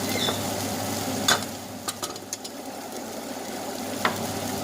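An egg dish stir-fried in a pan makes a steady low sizzle. A few sharp clinks and scrapes of the spatula against the pan sound close by.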